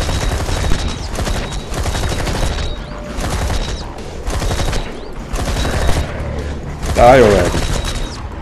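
Gunfire in the video game ZombiU comes as rapid, loud bursts of shots with mechanical clicks, over a steady game soundtrack, while a person speaks briefly.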